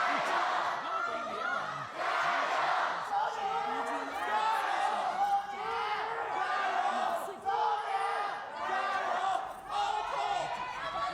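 A large crowd at an LPL Spring 2021 playoff League of Legends match chants and cheers in rhythmic surges, loud and reverberant, with a caster's voice over the top.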